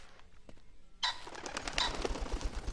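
A startled bird bursts into flight in the stealth survival game Sir, You Are Being Hunted, a sudden loud flurry of wingbeats that starts abruptly and carries on as a busy rustle over quiet outdoor ambience.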